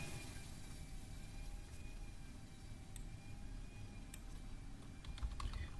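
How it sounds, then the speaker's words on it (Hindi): Steady clicking of computer keyboard keys as someone types out a text prompt, fairly quiet and continuous against a low background hum, with no talking. "ब्लू कलर में टाइप करता हूँ"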